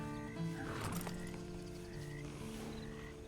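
A horse stands and shifts in Red Dead Online's prison escape scene, its faint hoof sounds and snorts set against a constant chorus of croaking frogs and droning outdoor ambience.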